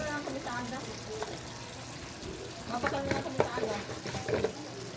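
Chopped vegetables tossed into a pan of sizzling adobo with chicken liver and gizzard, stirred with steady scraping and frying crackle, bursts of clatter late in the stretch, while someone talks over the cooking.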